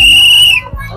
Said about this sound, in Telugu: ఇదిగోండి విజిల్ వేశారు, వెళ్తున్నారు ఆల్రెడీ 1-2.